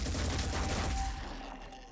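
In the Phoenix Point video game, a Gauss cannon fires a rapid, crackling burst of shots, loud at first and then trailing off into a fading rumble.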